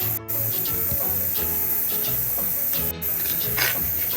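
Melted butter being stirred into sugar in a bowl for an almond fondant cake, a steady close scraping and hissing texture that runs continuously, broken by two brief dropouts.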